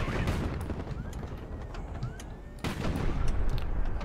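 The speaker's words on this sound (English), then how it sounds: "That's a beautiful bomb explosion." Missiles and bombs explode in Highfleet, a dense, loud barrage of booms and crackling blasts with a sharp fresh burst partway through, continuous rumble underneath.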